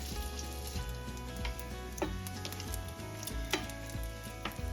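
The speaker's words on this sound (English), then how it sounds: "What we're doing is rendering some of the grease out of this bacon here." Bacon rendering its grease in a hot pan for Irish fried cabbage, giving a steady close sizzle broken by sharp pops and spits of fat, with no talking.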